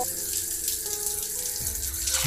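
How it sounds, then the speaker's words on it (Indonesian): Water runs steadily from a kitchen faucet, a continuous splashing hiss that sounds slightly distant, with no voices. "Sekarang ada suara air keran lagi mengalir."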